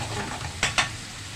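Chicken liver frying in oil in a pan, a low hiss broken by two quick, soft scraping stirs, close and brief.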